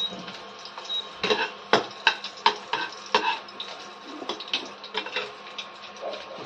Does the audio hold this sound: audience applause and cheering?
no